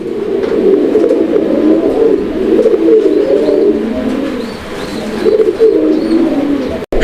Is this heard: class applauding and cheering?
no